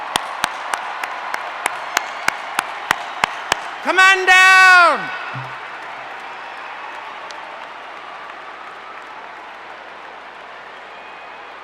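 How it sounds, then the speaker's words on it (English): At the 2016 FIRST Championship welcome ceremony, sharp, regularly spaced claps ring out for graduating seniors and alumni, then give way to a brief rising-and-falling electronic tone and a short spoken call before fading to quiet room noise. "Let's give our graduating seniors and alumni a huge round of applause."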